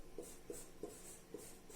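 Chalk or marker scratching out numbers on a board during a division lesson, a few short separate strokes in a quiet room, faint and without speech.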